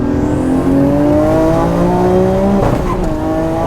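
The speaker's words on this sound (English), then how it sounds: "That was me hitting rev limiter." A twin-turbo Nissan R34 GTR engine pulls hard in third gear, its loud note climbing steadily before bouncing off the rev limiter with a sharp stutter, then dropping away.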